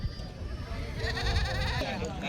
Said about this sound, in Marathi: खूप चांगल्या क्वालिटीचे शेळ्या आणि बकरे पण आलेले आहेत चांगल्या क्वालिटीमध्ये